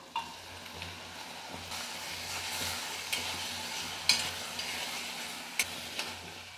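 Pounded country chicken legs and wings sauté in oil with a low continuous sizzle, punctuated by frequent stirring scrapes and light clinks of a spoon against the pan.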